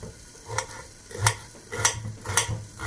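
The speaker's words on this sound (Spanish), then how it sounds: "Que no se nos olvide que tenemos dorando nuestra longaniza." Longaniza sausage browns in a frying pan with a low steady sizzle, broken by four evenly spaced sharp clinks or scrapes of a utensil against the pan.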